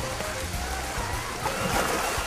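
Artificial waves in the Storm Wave Pool in Antipolo surge and wash steadily, a continuous broadband rush of churning water with low rumbling underneath, close and fairly loud throughout.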